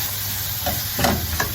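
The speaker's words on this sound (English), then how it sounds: "Just stir that in" A grated carrot and spaghetti cheese casserole mixture is stirred in a hot pan, with a steady close sizzle and a few soft scraping strokes on top.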